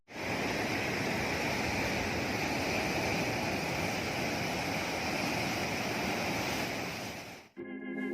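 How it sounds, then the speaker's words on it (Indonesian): Ocean waves roaring onto the beach at Ngliyep, a loud continuous rushing surf with wind buffeting the microphone, cutting off abruptly near the end. "Ini lur ombaknya lur, menderu-deru."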